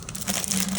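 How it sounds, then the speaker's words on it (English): The plastic wrapper of a Hostess Twinkie is pulled open in a short burst of close crinkling and crackling, with no voices. "So let me go ahead and unwrap this."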